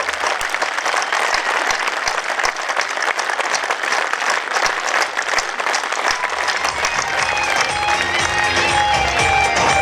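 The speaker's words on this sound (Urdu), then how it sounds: "اس کے لیے تالیاں بجائے" Loud, sustained applause from a large crowd at a PTI political rally in Quetta, a continuous roar of clapping with scattered cheering that fills the whole stretch.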